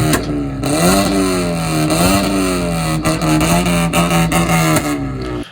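A Honda Civic with a bad exhaust revs hard, its raspy, droning engine note rising and falling through several throttle blips, loud and close, with no voices.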